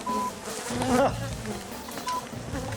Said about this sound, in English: JD pulled a hive of angry bees from Geraldine's tree